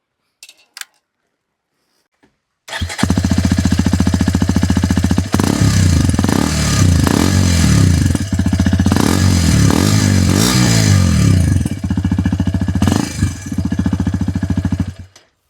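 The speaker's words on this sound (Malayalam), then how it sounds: "നമുക്ക് ആദ്യം തന്നെ ഇവന്റെ എക്സോസ്റ്റ് നോട്ട് ഒന്ന് കേട്ടിട്ട് വരാം" A Hero Xpulse 210 motorcycle starts up with a few clicks, then its exhaust idles with a loud, steady thumping beat and is blipped several times into short rising revs, close by with no talk.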